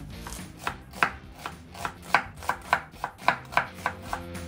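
A knife chops onion on a cutting board for kimchi seasoning, about a dozen crisp, evenly spaced thuds heard up close with no talking.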